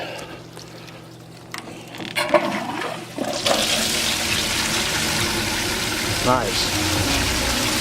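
A Keene A52 highbanker pump pushes water through hoses from a river, starting with a few knocks and clatters, then a loud steady rush of flowing water. A voice speaks briefly.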